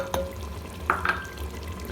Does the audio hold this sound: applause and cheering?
no